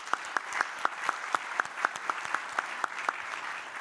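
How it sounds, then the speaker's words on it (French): An audience at a sustainability forum applauds four presenters, with crisp, evenly spaced claps in a steady rhythm of about four per second over a soft bed of scattered hands in a room. "Vous pouvez les applaudir tous les 4"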